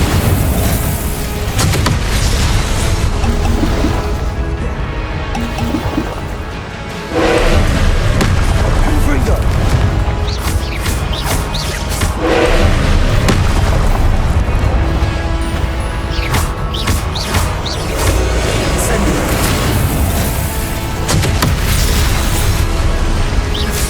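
Confringo spell blasts in Hogwarts Legacy boom repeatedly, loud heavy explosions and crackling bursts over dense combat noise, with a brief dip near the start before the barrage continues; a voice speaks over them.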